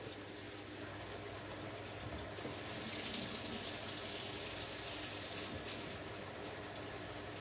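A kitchen tap runs steadily as a small Scotch bonnet pepper is rinsed under it, the water swelling louder midway and then settling, with no one speaking.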